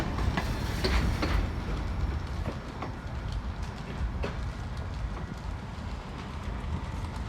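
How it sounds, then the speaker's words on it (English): A long string of 29 model train cars runs along the track, giving a continuous rolling rumble with a faint rhythmic clickety-clack over the joints. The sound is steady and fairly close, with no talking. "All trains, just running them. 29 cars."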